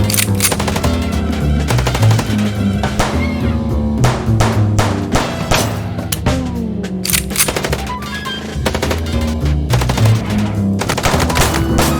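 Rapid bursts of gunfire from the Chicken Police video game ring out loud and close, sharp repeated shots rattling over a steady low musical or engine bed for the whole stretch.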